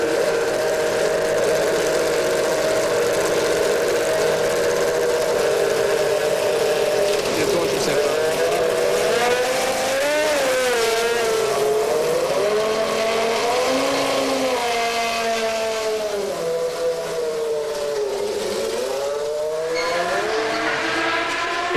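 A Williams Renault FW15c Formula One car's engine wails loudly, its high-pitched note climbing and dropping through repeated revs and gear changes as the car passes through corners, with some talk over it.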